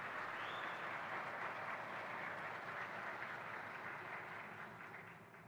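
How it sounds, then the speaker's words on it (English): A large audience at a conference opening ceremony gives a steady wash of applause that holds evenly, then fades gradually near the end, sounding somewhat distant and soft. "a round of applause for everyone"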